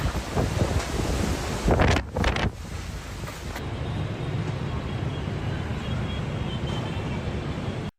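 Strong typhoon winds roar steadily with gusty buffeting against the microphone, broad and loud throughout, with a brief harsher surge early on and a sustained howling wash after.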